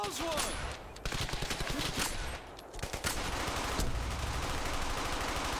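Continuous machine gun fire and scattered shots in the World War II shooter Brothers in Arms: Hell's Highway, dense rattling bursts filling the scene without pause, with voices faintly mixed in.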